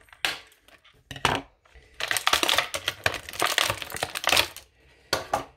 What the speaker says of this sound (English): As soon as my scissors can actually get under the tab so I can cut it.